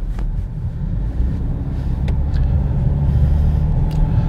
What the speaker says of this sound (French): Des fois, on entend un peu la boîte vibrer.